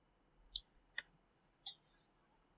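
A mouse clicks on a downloaded installer file in a quiet room: a few sharp, close, isolated clicks spaced under a second apart, then a brief faint rustle. No voices.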